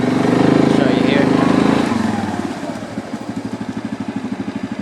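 Yamaha Grizzly 700 ATV engine braking as the rider slows down: a steady loud engine drone that drops in pitch and settles into a rhythmic low pulsing idle-like throb near the mic.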